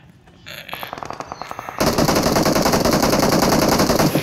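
Rapid automatic gunfire in the battle royale game BGMI, starting as short spaced bursts and then becoming a dense, loud continuous stream of shots, with no talk over it.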